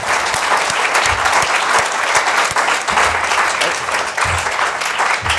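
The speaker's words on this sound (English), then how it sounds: "Round of applause for being here." Loud, dense audience applause fills the room at the close of a public health speaker series talk, many hands clapping continuously and close by.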